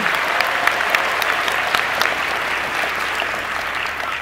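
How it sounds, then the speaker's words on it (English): Crowd applause at a cosplay masquerade at an anime convention, a loud, sustained roar of many clapping hands filling a large hall, tapering slightly at the end. "Ladies and gentlemen, round of applause, please."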